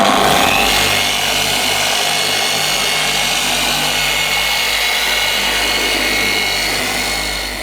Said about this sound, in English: I'm using a Lake Country pad here, and I'm going to do some polishing